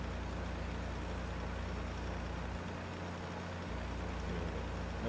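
Steady low tractor engine drone from Farming Simulator 15, a continuous idling rumble with no talk over it, holding an even level throughout.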